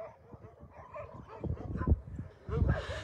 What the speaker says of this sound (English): because I hear the puppy crying